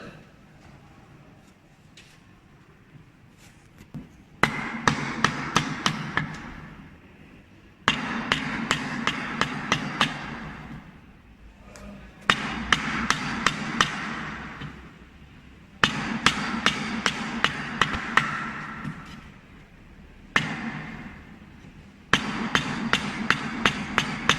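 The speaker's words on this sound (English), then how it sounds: "With chipping, little by little. So chipping one by one." Mallet strikes on a chisel chopping out wood for a dovetail halving joint, arriving in five bursts of rapid, sharp, close knocks separated by short pauses.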